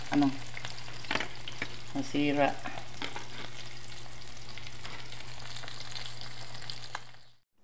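Steady sizzling of an omelette with sweet potato leaves frying in a pan, with a few clinks and scrapes of a utensil and a brief spoken word near the start.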